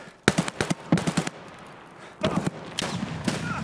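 Rapid automatic gunfire from the video game Escape from Tarkov comes in several loud bursts with short gaps, the later bursts more ragged and continuous.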